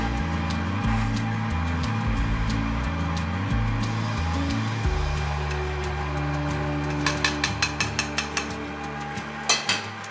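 A pastry mixing machine in a pastry shop in Maó runs with a steady motor hum that shifts pitch in steps, followed near the end by a series of clattering knocks.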